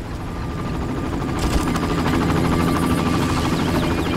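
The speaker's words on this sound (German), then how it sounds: "Oh, ein Hubschrauber." Helicopter in the video game Far Cry passing overhead, a steady, loud rotor thump and engine drone that keeps up throughout without a break.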